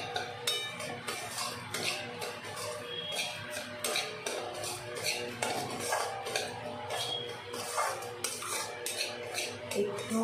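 Semolina being stirred in a pan for upma, a steady series of light metallic scrapes and clinks from a spoon against the pan, quiet and close, repeating in an uneven rhythm.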